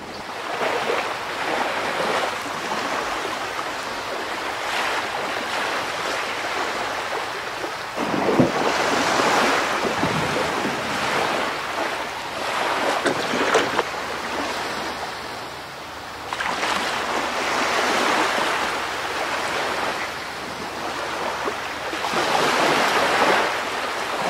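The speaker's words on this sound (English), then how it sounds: "Oh dear, it's quite cold and windy and it keeps raining." Strong wind buffets the microphone while waves surge onto the shore of Stewart Island in swelling, repeated washes, loud and continuous throughout, in cold, rainy weather.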